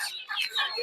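Chickens clucking and squawking at a village duck and chicken market in Narsingdi, a short burst of several overlapping bird calls, close and fairly loud.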